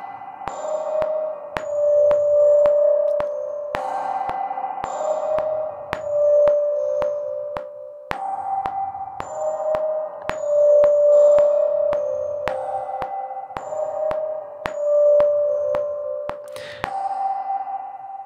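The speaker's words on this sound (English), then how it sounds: "let's go ahead and put this music box back" A music box melody of bright tinkling notes, played through a stereo reverb plugin with spacious reverb and regular sharp clicks marking time, with no voices.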